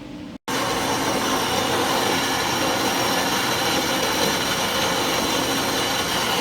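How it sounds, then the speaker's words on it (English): A bandsaw cuts steadily through a metal driveshaft being shortened, a loud continuous grinding rasp that runs unbroken after a brief silent gap at the start. "the stupid bandsaw broke the blade again. I got about 2/3 of it cut"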